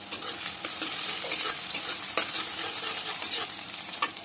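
Curry with spices being stirred and fried in oil in a pan, a steady close sizzle with scraping stir strokes throughout, no talking.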